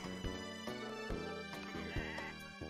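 Sheep bleat in the Harvest Moon: Sunshine Islands farming game, several calls repeating over a steady bed of background game music.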